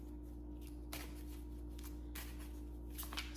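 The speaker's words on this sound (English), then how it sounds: "let me shuffle this card just one more time" Quiet, intermittent riffling of tarot cards being shuffled, with a few soft bursts against a steady low electrical hum.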